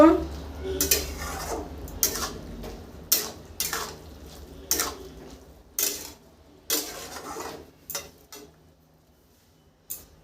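Rice flour and grated coconut for a pressure-cooker pitha being worked together in a bowl, a series of distinct clattering knocks and scrapes every second or so, close and fairly loud, with quiet gaps between strokes.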